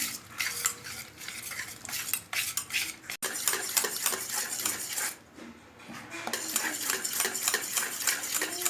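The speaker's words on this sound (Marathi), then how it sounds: "आता याला चांग छान फेटून घेऊया" A coconut ice cream mixture is whisked briskly in a freezer-chilled bowl, making rapid, continuous metallic clinks and scrapes up close. There is a brief lull around five seconds before the whisking resumes.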